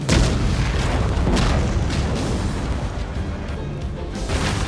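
A sustained, heavy rumbling blast with dense low-end roar, loud and continuous throughout, like an explosion or barrage echoing without pause.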